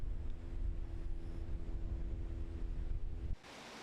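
Ocean waves wash onto a quiet late-summer beach at Gomseom in Taean, with a steady, loud broadband roar of surf and wind noise that drops away abruptly near the end.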